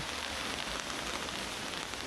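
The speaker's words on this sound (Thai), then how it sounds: "ฝนตกมาตั้งแต่เมื่อคืนแล้วนะครับผม" Steady, dense rain falls during a storm, a constant broadband hiss of drops striking surfaces, even and unbroken throughout with no voices.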